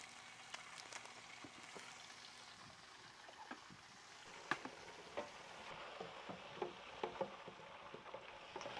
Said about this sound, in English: we got our wings in here deep frying